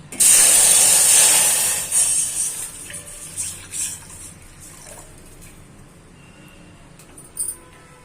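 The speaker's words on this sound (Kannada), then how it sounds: "ಹಾಲು ಹಾಕ್ಬಿಡ್ತೀನಿ. ಇದೇ ಪಾತ್ರೆಗೆ ಹಾಕ್ಬಿಡ್ತೀನಿ." A loud sizzling hiss as milk is poured into a hot pan, strongest at the start, then fading into softer bubbling and scattered faint clatters.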